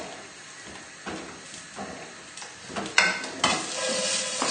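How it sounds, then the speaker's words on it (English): A fish cassoulet gets stirred in a hot pan, soft scraping and occasional utensil knocks over a constant low sizzle, with no voices. "just give the cassoulet a stir"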